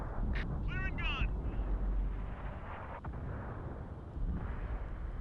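Tank cannon fire in the World of Tanks video game, a deep booming rumble that carries through the clip with a sharp burst near the start, mixed under other game sounds.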